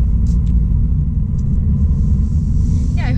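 A 2017 Mercedes-Benz E300 sedan cruising, a steady low road rumble and engine drone filling the whole stretch at even loudness, with no sharp changes or voices.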